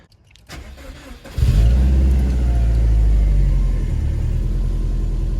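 A tuned Subaru Legacy Spec B cranks briefly and fires into a deep, steady idle that hums on close and loud to the end, with no voices.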